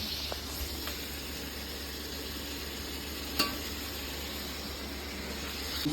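Pieces of goat mutton sizzle and hiss in a hot kadai wok, with a steady frying crackle and a few sharp scrapes and clinks of stirring.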